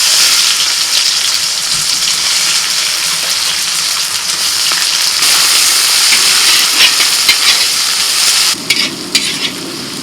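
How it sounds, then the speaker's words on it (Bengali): Chopped onion hits hot oil already tempered with cloves, dried red chilli and bay leaf, giving a loud, steady sizzle and frying hiss that runs continuously, shifting briefly near the end as the pan is stirred. "ফোড়ন হয়ে গেছে এবার পেঁয়াজ কুচি দিয়ে দিচ্ছি"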